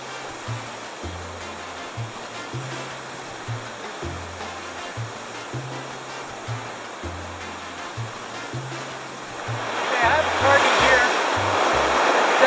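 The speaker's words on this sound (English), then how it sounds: "The waves are up pretty high today" Waves break and surge along a Grand Bend beach shore in a steady wash of surf, louder and closer toward the end, with low wind buffeting throughout.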